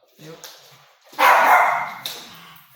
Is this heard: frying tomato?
no